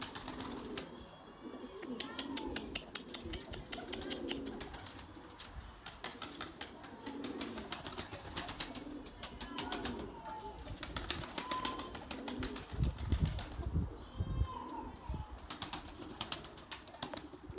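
Erzurum white breeding pigeons coo softly and flap their wings in a loft, with occasional fluttering bursts over a steady background, while someone talks nearby.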